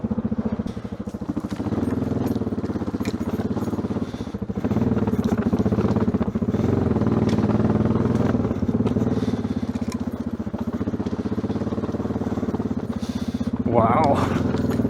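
A Yamaha XT600Z enduro motorcycle rides through a muddy forest on old tyres with a steady thumping single-cylinder drone and some rattles, and a rider speaks over the engine.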